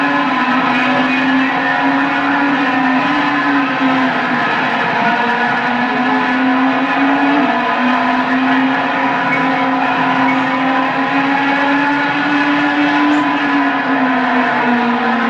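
Race cars scream down the front stretch of a circuit, a loud sustained engine drone with a steady high pitch that swells and dips slightly as the cars hold speed.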